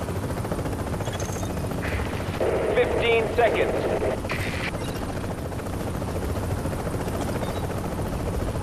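A helicopter drones steadily overhead in Tom Clancy's The Division's Dark Zone, its rotor roar blended with distant gunfire and radio-style chatter throughout.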